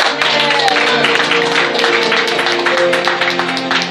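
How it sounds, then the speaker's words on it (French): A congregation at a church service in Meaux, France claps steadily and loudly throughout, dense applause under some voices and a sustained musical tone. "Sous vos applaudissements."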